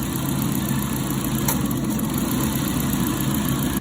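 Engine of a 2018 Nissan Versa running with a worn serpentine belt, a steady close rumble carrying a continuous high thin whine throughout, briefly cutting off at the end.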